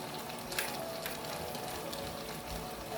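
Ground garlic and ginger fry in a hot pan with a steady, even sizzle and crackle, close and unbroken throughout, with no voices.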